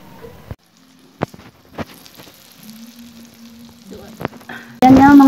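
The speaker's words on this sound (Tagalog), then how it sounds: "Then, fried na natin." Century tuna and eggplant fry in a non-stick pan. Quiet sizzling is broken by sharp taps and clicks, then a loud burst of crackling sizzle comes in at the very end.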